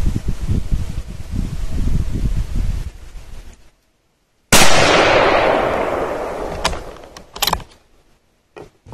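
A single loud, close rifle shot from a CZ rifle in 6.5 Grendel cracks sharply and rings out in a long decaying echo, followed by a few fainter clicks and knocks.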